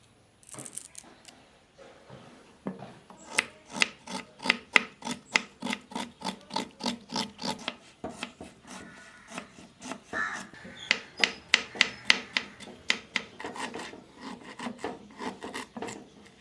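Ginger is scraped of its skin and chopped fine on a board, a quiet run of rapid rhythmic rasping strokes that speed up into steady repeated cuts, close and without talk.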